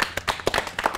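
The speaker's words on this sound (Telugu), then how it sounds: "ఆ ముగ్గురికి గట్టిగా ఒకసారి క్లాప్స్." A party crowd at a Holi celebration during a film team's game show claps together, a burst of sharp, uneven hand claps close by filling the whole second.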